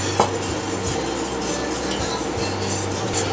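Flour and butter roux is stirred in a pot for pastitsio béchamel, with a continuous scraping swirl and faint utensil clinks against the metal, and no voices.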